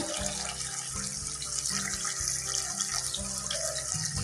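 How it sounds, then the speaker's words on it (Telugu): A continuous stream of water splashing into a pan of potato kurma gravy, steady and close, over a low pulsing hum, no voices. "కొంచెం గ్రేవీ లాగా ఉండాలి కాబట్టి వాటర్ అయితే వేసుకున్నాం."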